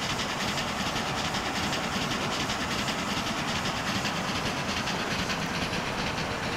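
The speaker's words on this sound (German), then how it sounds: "Es hat mehrere Züge halt auf der Strecke fahren." An Austrian BBÖ 214 steam locomotive train running along the tracks in the video game Transport Fever, a continuous loud rumble with rhythmic wheel clatter and chuffing, heard close and alone.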